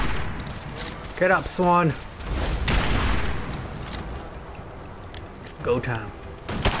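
Gunfire in Fallout 4 during a fight with the super mutant Swan: several loud, close gunshot bursts and booming impacts with heavy rumble, spread across a few seconds, while a character shouts.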